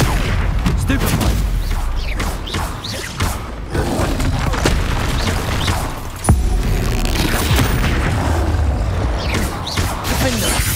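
Spell-casting effects from the Hogwarts Legacy video game, a dense run of booming blasts, thuds and crackling impacts one after another, with shouted incantations over the top.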